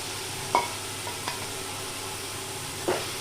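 Prawns stirred in a pan for Tamil prawn thokku, giving a low steady sizzle with three short scraping stirs, at about half a second, just over a second and near three seconds.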